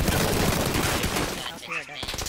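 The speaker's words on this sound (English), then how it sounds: "There's a guy shooting at the back window, Joe." Rapid gunfire in a battle royale video game, a loud burst of overlapping shots filling the first second and a half, then thinning into a few scattered cracks as a voice briefly talks.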